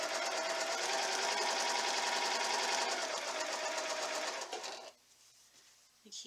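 Sewing machine stitching quilt block pieces, a steady fast mechanical whir running continuously for several seconds before stopping, followed by faint handling sounds.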